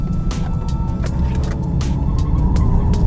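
A Mercedes-AMG A 35 with a 2000 cc four-cylinder AMG engine while driving, giving a loud, steady engine drone and road rumble with brief higher bursts scattered through.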